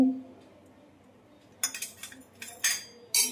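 Metal spoon clinking against a bowl while mixing chili powder, salt, coriander powder, garam masala, turmeric and yogurt for paneer tikka, a few bright, close clinks in short bursts after a quiet start.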